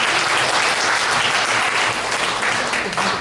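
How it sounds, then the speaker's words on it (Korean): An audience applauds a doctor with sustained, dense clapping that stays loud and even for the whole stretch, with no voices standing out above it. "박사님께 박수 한번 하겠습니다."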